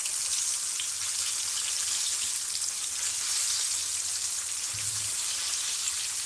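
Green tomatoes fry in hot grease with a soft, steady sizzle and crackle, fairly quiet and continuous, with no one speaking.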